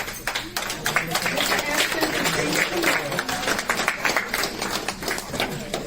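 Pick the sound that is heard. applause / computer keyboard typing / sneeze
applause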